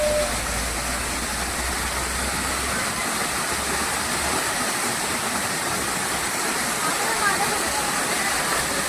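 A waterfall in a village near Mahabaleshwar, Maharashtra, rushes with a steady, dense roar that fills the whole stretch, with a faint low engine-like rumble beneath during the first few seconds.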